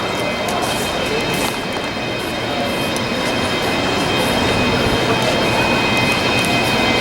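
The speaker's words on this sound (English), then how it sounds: "Oh, look at this train." The Norfolk & Western 611 steam train makes a dense, steady rumbling roar, close and loud throughout with no clear breaks.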